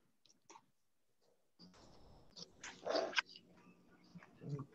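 A child imitates a cat's meow with a short, drawn-out vocal sound in a classroom video call, after an adult asks a question.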